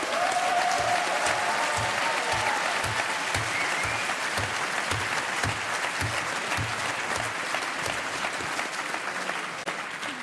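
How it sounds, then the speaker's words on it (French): A conference audience applauds Rob Hopkins, speaker on citizen energy transition, in a dense, sustained wash of clapping that holds steady for about ten seconds and eases slightly at the end. "que vous pouvez applaudir aussi."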